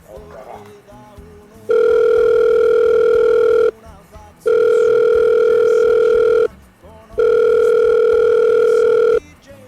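A steady electronic telephone tone sounds in three long bursts separated by short gaps, loud and close, with brief talk in between.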